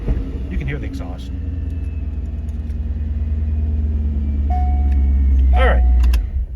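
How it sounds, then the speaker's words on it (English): A Chevrolet C8 Corvette idles with a deep, steady exhaust rumble that swells gradually, with keys jangling and brief voices over it. "you can hear the exhaust"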